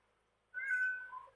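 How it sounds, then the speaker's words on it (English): Cat meowing to be let in, a single short meow heard moderately close in an otherwise quiet room. "Cat wants in."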